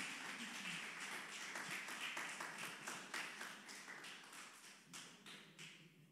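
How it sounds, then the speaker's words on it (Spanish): A church congregation claps together at a Spanish-language sermon, steady rhythmic applause with crisp regular hand claps filling the room, sustained and moderately distant, without speech over it. "Vamos a darle fuerte ese aplauso a Dios."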